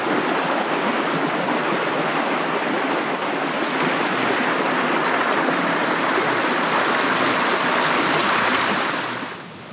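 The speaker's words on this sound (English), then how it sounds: "Polluted water. Nice." Polluted stream water in Berowra Valley bushland rushing steadily and loudly, a dense continuous wash close by that holds even throughout before easing slightly at the very end, with no voices.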